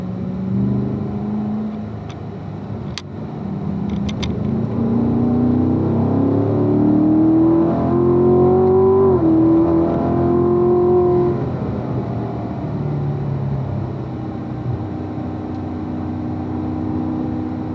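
A race car engine on a track roars steadily, its pitch climbing and dropping as the driver downshifts into third gear, loud and continuous with no voices.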